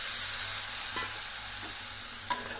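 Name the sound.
boiled chickpeas stirred into sizzling masala in a pan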